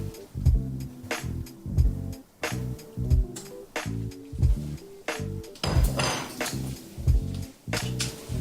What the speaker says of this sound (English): I can drop my ham in